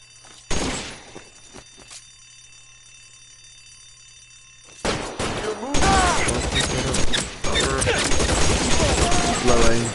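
Suppressing gunfire in L.A. Noire on PS4, a brief burst early, then a long dense run of rapid loud shots with an alarm ringing, close and continuous.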